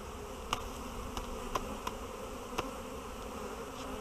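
A steady honeybee buzz hums throughout around a hive during a spring inspection, with a few sharp clicks or taps scattered through it, fairly quiet and close.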